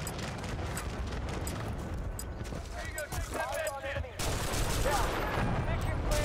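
Automatic gunfire in Battlefield Bad Company 2 against an enemy in a ghillie suit: continuous dense battle noise of rapid shots, swelling louder near the end, with a voice talking faintly underneath.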